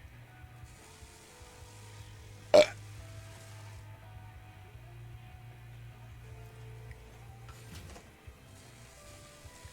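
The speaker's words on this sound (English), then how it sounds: "I dare you to burp right now." A man lets out a single loud, short burp partway through, standing out sharply against a quiet room with a steady low hum and no talking.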